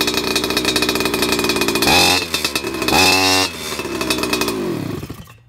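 A loud car engine on a warm start, running roughly without revving, chugging and sputtering, its pitch dipping and surging a couple of times before cutting off.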